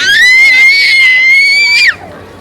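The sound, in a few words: toddler screaming loudly in a shopping mall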